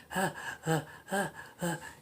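A creepy breathing vocal score from the film Don't Worry Darling: four rhythmic, voiced gasping breaths in an even pulse, close and musical, each a short swelling inhale.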